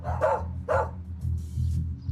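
A dog barks twice in quick succession, moderately close, over a low steady background hum, followed by softer faint noises.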